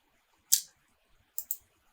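Sharp, quiet mouse clicks sound close: a single click followed by two quick clicks a moment later, in an otherwise silent room.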